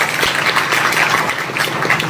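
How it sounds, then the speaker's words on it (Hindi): Crowd at a Suheldev Bharatiya Samaj Party political rally clapping in welcome, steady dense applause from many hands throughout, fairly loud with no voice over it. "जोरदार ताली बजा के स्वागत करेंगे।"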